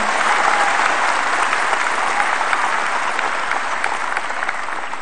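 Loud, dense applause from a hall audience greets guests during a political party speech, a continuous wash of clapping that holds for several seconds and tapers slightly at the end.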